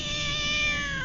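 A single drawn-out cat meow, close and clear, lasting about a second.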